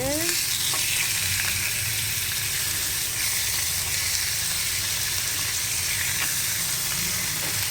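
Marinated pork chop sizzles in oil on a grill, a steady close crackle and hiss with occasional stirring scrapes, continuous throughout.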